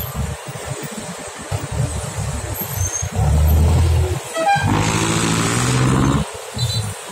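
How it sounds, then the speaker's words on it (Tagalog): Heavy traffic on the Skyway bridge, with a steady road rumble and several car and truck horns honking loudly and close by, including one long sustained blast partway through. "Yan, marami ang traffic."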